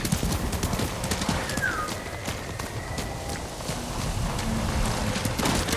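Steady clip-clop of a horse's hooves galloping at a quick pace in the video game Ghost of Tsushima, fairly close, continuing for the whole stretch over a faint background hum.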